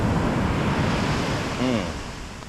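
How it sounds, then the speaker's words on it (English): Ocean surf at a Malibu, California beach, loud and close, a continuous wash of breaking waves with wind buffeting the microphone, easing slightly toward the end. "Beautiful waves."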